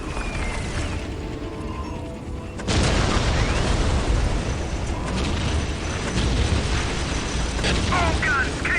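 Artillery guns and explosions booming in a Warhammer 40,000 video game, a dense, loud, continuous barrage of blasts and rumbling that jumps sharply louder partway through, with a voice speaking over the battle.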